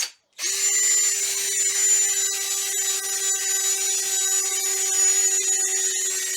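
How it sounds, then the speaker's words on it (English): A power drill starts after a brief silence and runs continuously with a steady high whine and rough buffing friction on a wet-sanded fabric car top, close and loud. "we're about ready to go ahead and start with the drill."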